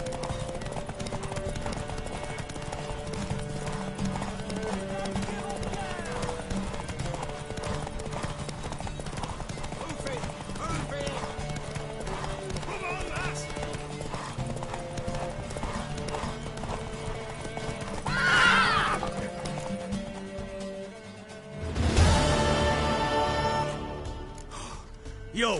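Steady clip-clopping hooves of a video game horse play for a long stretch under soft background sound, with a sharp neigh near the end followed by a louder rustling burst.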